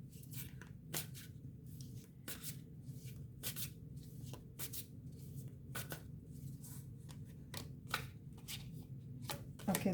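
Tarot cards shuffled by hand at close range in quick riffling bursts with brief pauses between them, quiet and alone against a low hum.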